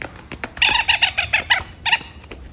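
A pet chicken clucks close by in a quick, uneven series of sharp, bright calls, bunched in short bursts with brief gaps between them.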